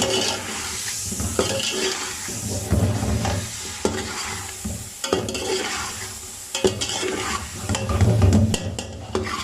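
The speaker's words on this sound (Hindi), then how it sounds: "मैं इसकी अच्छे से ज़रा भुनाई कर दूँ" Chicken for yakhni pulao sautéed in a pot with yogurt, a dense continuous sizzle with frequent scraping stirs and occasional spoon knocks, loud and close, no talking.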